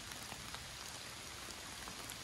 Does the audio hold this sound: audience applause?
no